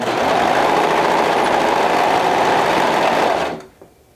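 Sewing machine stitching the seam of a flutter wrap, a steady loud motor whir running continuously for about three and a half seconds, then stopping abruptly with a faint click after.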